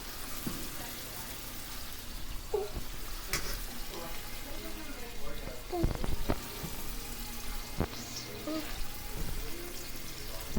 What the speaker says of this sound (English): We're gonna let that sizzle.